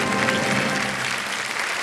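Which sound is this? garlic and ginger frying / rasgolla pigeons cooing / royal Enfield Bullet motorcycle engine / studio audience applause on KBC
studio audience applause on KBC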